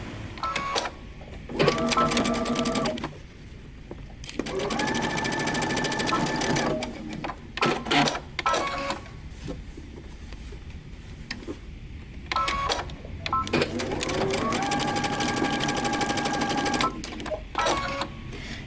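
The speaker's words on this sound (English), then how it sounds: "Now go to the sewing machine and we're going to stitch these together." A sewing machine stitching dress seams runs in several bursts of rapid mechanical whirring and clatter, close and loud, with pauses between runs and a person talking at times.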